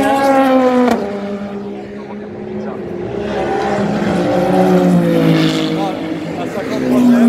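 A Porsche race car passes at the 24 Hours of Le Mans, its loud engine whine swelling and shifting in pitch under continuous commentary.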